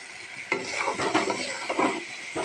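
Spice paste fries in oil in a pan while being stirred, giving a close, steady sizzle broken by soft scraping and knocking of the spoon against the pan.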